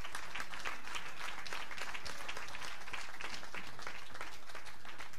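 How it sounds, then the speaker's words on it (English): A crowd applauds continuously at a women's 10m air rifle standing SH1 final in Chateauroux, 2018, dense clapping holding at an even, fairly loud level from start to finish. "Taylor Farmer, applause"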